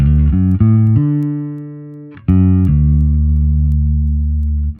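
Clean electric bass notes ring out through a Line 6 Helix amp simulator, deep and sustained, a few plucked notes sliding between pitches with no talking.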